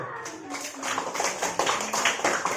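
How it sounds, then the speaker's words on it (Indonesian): Children clap their hands in a classroom during a math lesson, a patchy run of claps lasting a couple of seconds, with voices mixed in. "Sudah, tepuk tangan dulu."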